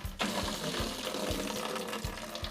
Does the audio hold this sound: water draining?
yes